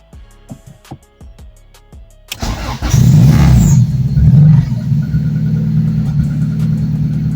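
A car engine starts and idles with a low, steady rumble inside a freshly cleaned, previously flooded garage, rising briefly in revs before settling; close and loud after a few quiet knocks.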